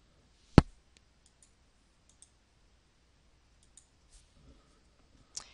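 Sharp computer mouse clicks while saving in a Facebook app on a computer, one loud click near the start and another near the end, with a few faint ticks between in a quiet room.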